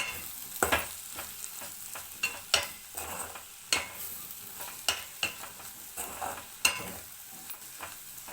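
Spoon scraping and clinking in a pan as onion egg curry is stirred with salt, irregular sharp knocks over a soft, quiet sizzle, close and without talk.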